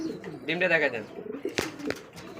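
Racing pigeons coo in a loft, with a close, throaty burble rising and falling for about a second, followed by a few sharp clicks and scuffs.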